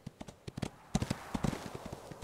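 Horse hoofbeats from riding in the Ostwind video game, a quick run of close, crisp clip-clop steps crossing a road, evenly paced over a couple of seconds.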